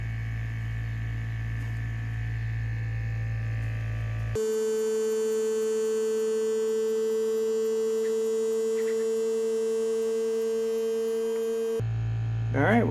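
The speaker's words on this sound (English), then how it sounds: "it's pulling a vacuum" A steady mechanical hum with a strong, constant tone runs throughout, starting and stopping abruptly, a vacuum pump droning at close range as it pulls a vacuum on a resin vacuum chamber.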